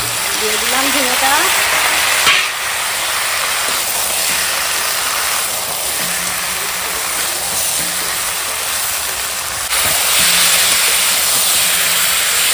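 Ridge gourd and mixed vegetables frying in a pan give off a steady, even sizzling hiss that runs throughout, with a brief clatter early on.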